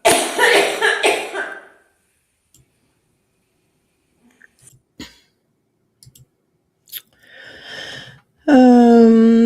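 A burst of coughing up front, then near silence with scattered clicks and small noises, ending in a loud tonal sound.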